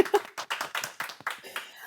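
Brief, sparse clapping from a small audience greeting a speaker at an online kickoff event for a global impact challenge, close and rapid, over about two seconds.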